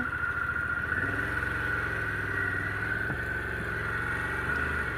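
A Harley-Davidson Pan America Special motorcycle engine runs at a steady idle, a constant low rumble with no voices.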